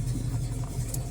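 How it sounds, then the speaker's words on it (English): A 1970 Ford Torino GT engine idling hot at about 650 rpm, a low, steady, close rumble with a slight loping pulse across a brief moment. "There's idle for you, about 650."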